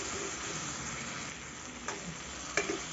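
Spices for a mixed dal sauté in a hot pan with an even, close sizzle, broken by a couple of brief stirring scrapes.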